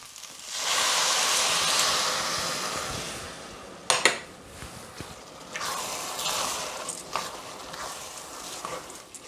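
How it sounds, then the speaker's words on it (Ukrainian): Wine poured into a pan of mushroom risotto with champignons, a steady close hiss and sizzle as it hits the hot rice, followed by clinks of a spoon or pan while stirring continues, with no talk. "Наступним кроком вливаємо вино."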